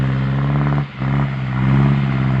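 A tractor stuck in sticky clay mud in a paddy field holds a loud, steady revving drone with one brief dip, as its wheels spin in place.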